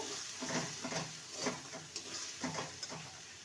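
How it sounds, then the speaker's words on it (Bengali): Spiced potato curry with salt is stirred in a pan, a soft steady sizzle with rhythmic scraping strokes about every half second, fairly quiet and close, no voices. "লবণ দিয়ে আবারও নেড়ে নেব"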